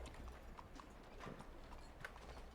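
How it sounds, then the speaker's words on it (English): Hooves of a horse in a video game clip-clop in a quick steady patter, faint and low in level against a continuous game ambience, with no talking. "This is my new horse"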